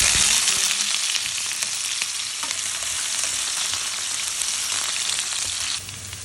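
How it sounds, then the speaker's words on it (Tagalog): Potatoes and carrots fry in hot oil, giving a loud, steady sizzle and crackle that runs without a break, with a few faint stirring scrapes. "Ipiprito muna natin ang patatas."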